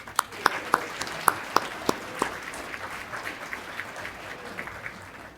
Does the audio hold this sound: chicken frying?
no